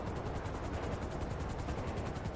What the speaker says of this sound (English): you need to listen to that sound of the helicopter and then drive carefully towards it